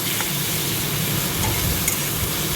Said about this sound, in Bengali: তাতে তেজপাতা পেঁয়াজ দিয়ে